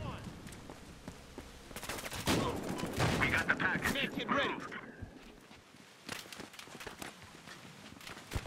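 Sniper rifle shots and gunfire in the Battlefield Hardline beta, sharp cracks amid busy game noise and footsteps, with someone talking over the action.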